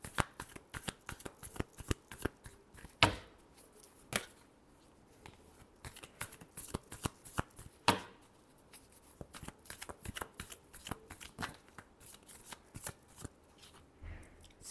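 A deck of tarot cards is riffled and shuffled close to the mic in repeated sharp flutters and slaps, irregular bursts spread over about fifteen seconds with quiet gaps between.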